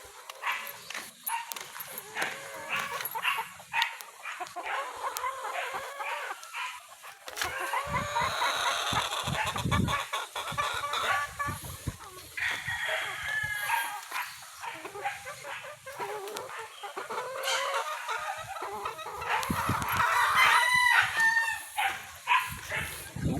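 Hens cluck on and off nearby at a game farm while a dog barks and a rooster crows intermittently in the background.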